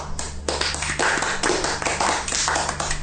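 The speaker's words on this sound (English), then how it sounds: "The ghosts are clapping" A crowd applauds with dense, continuous clapping that holds steady for several seconds.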